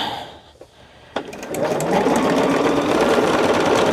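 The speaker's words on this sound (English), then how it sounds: "I'm still sewing it from corner to corner" Sewing machine stitching fabric from corner to corner, starting with a click and then running as a steady, close, rapid mechanical whir that holds to the end.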